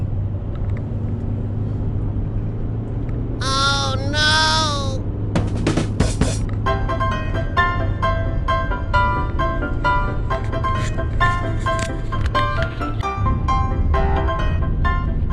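A Toyota Alphard minivan's engine labours up a winding mountain road, a steady low rumble running throughout, joined midway by a brief warbling tone and a stretch of sustained musical-sounding harmonics.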